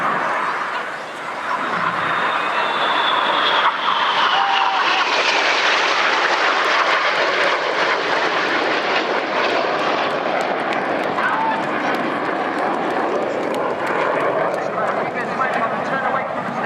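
Red Arrows jets passing at Swansea Airshow, a loud sustained roaring whoosh that swells and holds over many seconds with a shifting pitch, while an announcer talks over the crowd.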